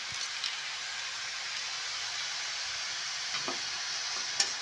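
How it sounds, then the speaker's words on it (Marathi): Spinach and dill greens sauté in a hot pan in a traditional village-style home kitchen, giving a steady, even sizzle throughout with a few soft stirring scrapes, close and fairly quiet, with no voices. "त्याच्यानंतर व्यवस्थित ती परतून घ्यायची खाली वर करायची"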